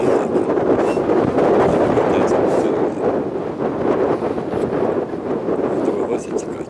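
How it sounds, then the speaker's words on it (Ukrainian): Strong wind buffets the microphone outdoors, a steady roaring rush with broad low rumble and some whistling edges, loud and continuous throughout with no pauses. "Тут вітер сильний, свистить, так що майже нічого не буде чути."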